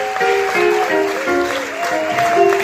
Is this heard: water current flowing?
no